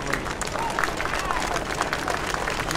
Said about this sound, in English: You can hear the crowd, they love it.